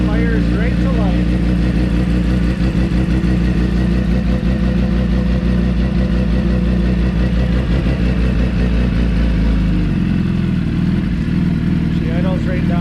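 A sport bike engine fires up and settles into a steady, loud idle with a continuous low throb and a slight shift in tone near the end, a voice talking over it.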